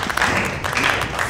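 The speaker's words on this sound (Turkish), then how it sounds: "Arkadaşımızı alkışlayalım." An audience applauds a newcomer at a training group, a dense, steady wash of many hands clapping close by, filling the whole brief moment without a break.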